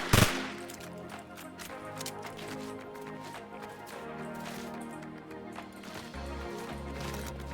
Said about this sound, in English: I start shooting the cone to see if anybody is inside the cone.